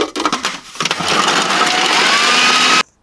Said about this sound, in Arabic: حنبلش أول شي أكيد بدنا الخلاط الكهرباء.